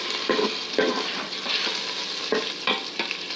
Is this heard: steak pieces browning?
yes